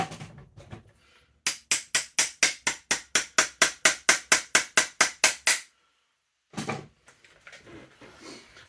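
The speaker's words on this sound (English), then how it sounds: "I've just used a small hammer just to nudge all that back in" Small hammer tapping a little roll pin back into a Specna Arms SAJ05 Edge AK airsoft rifle: a quick run of about sixteen even, sharp metallic taps, close and loud, followed by a pause and some faint handling noise.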